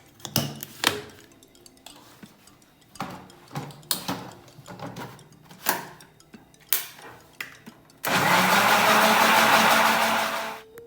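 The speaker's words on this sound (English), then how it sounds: "Now it's time to grind the Aamras." Clinks and knocks of a mixer jar being handled give way to a loud, steady grinding roar of the mixer blending mango pulp for Maharashtrian aamras, lasting a couple of seconds before cutting off.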